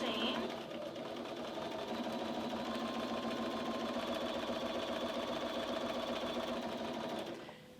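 A sewing machine runs steadily while stitching a quarter-inch quilt seam during machine quilting, its even, continuous whir close by for nearly the whole stretch before it stops at the end.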